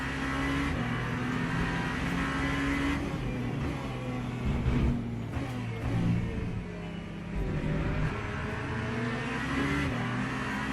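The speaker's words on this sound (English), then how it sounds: "That's a Corvette leading the race." A Corvette race car in the Le Mans Ultimate racing game drones with a steady engine note that rises and falls through gear changes and revs, loud and continuous with no one speaking.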